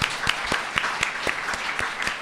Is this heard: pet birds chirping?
no